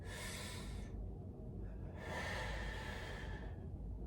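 Slow, deep breaths in and out during a thoracic spine mobilisation exercise: long airy inhales and exhales, close to the mic and steady, separated by brief pauses, with no speech.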